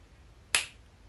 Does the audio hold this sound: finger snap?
yes